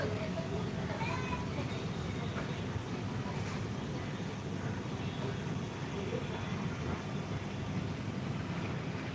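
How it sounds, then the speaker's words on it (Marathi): Thin, high whistling cries of kites ring out now and then over a steady wind rush and low background rumble. "घारींचा आवाज आहे"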